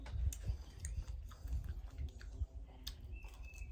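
Crunchy cornmeal mush with a piece of bacon being chewed outdoors at close range, a steady run of soft crunching bites over low background noise, with no talking.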